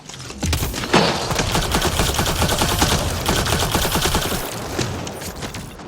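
Rapid automatic gunfire from a weapon in the video game Mass Effect Andromeda, a dense, loud stream of sharp shots lasting several seconds with bursts of impacts and no pauses.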